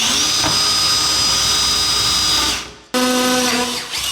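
A power drill bores a pilot hole with a 4mm Diablo bit during tiny home construction, a steady high whine running close and loud for nearly three seconds, cutting out briefly, then spinning up again.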